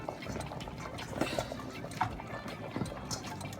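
Pieces of dough formed into dumplings and dropped into a pot of Jamaican red peas soup, soft liquid plops and wet sloshing over a bubbling simmer, close and fairly quiet, with no talk.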